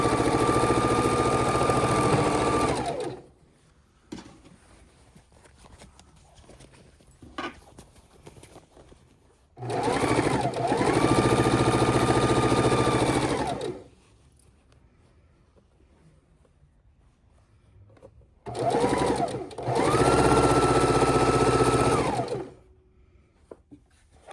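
A sewing machine stitches quilt rows of half square triangles together in three loud bursts of rapid mechanical whirring, each several seconds long, separated by quiet pauses with faint handling sounds.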